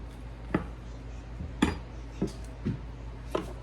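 A knife and cutting board are set out on a kitchen counter for cooking, giving a few light, sharp clinks and knocks spaced apart, with no talking.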